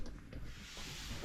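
A DA sander works over a car door, stripping off black paint with a close, steady abrasive hiss that holds fairly constant with slight surges and no talking.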